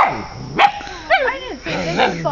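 Small puppies bark and yip in short, high, squeaky bursts at close range, with a few excited calls spread across the moment while people talk nearby.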